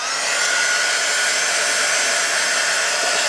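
A heat tool blasts steadily to dry waterproof ink on a craft project, a loud continuous whooshing hiss with no pauses and no talking.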